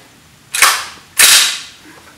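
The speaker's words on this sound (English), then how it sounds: "the first shot is going to be at 185 yards" Two loud, sharp rifle shots from a rifle fitted with a Vortex Viper PST Gen II 1-6x24 scope at an outdoor range, each a hard crack with a brief decaying tail, about half a second apart.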